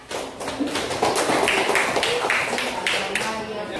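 A burst of applause from a classroom audience of students during a school lesson fills the space, dense overlapping hand claps that stay loud and steady, with faint voices underneath.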